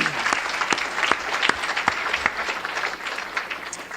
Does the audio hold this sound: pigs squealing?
no